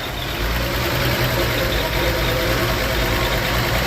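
A 1961 Chevy Bel Air engine idles steadily after a new starter was fitted, with a close, continuous rumble and broadband roar and no pauses or talk.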